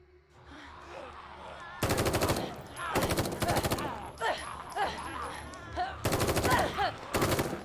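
Rapid automatic gunfire in The Evil Within 2 horror video game, loud bursts of machine-gun shots in several volleys, with a voice talking between and over the shooting.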